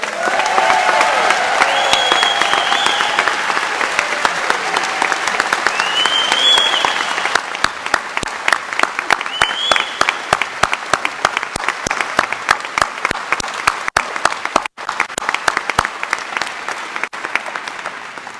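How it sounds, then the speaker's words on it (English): Loud, sustained applause from a crowd at a Connecticut political campaign rally, dense clapping with cheering and whistles early on, turning into sharper, more rhythmic clapping toward the end. "a round of applause"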